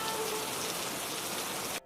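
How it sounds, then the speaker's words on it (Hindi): Heavy rain pours down in a dense, loud, steady hiss, then cuts off abruptly just before the end. "इतनी तेज बारिश हो रही है"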